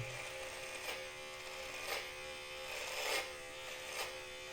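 Vintage T9 electric hair and beard clipper running steadily, a continuous close buzzing hum with slight periodic swells, no voices.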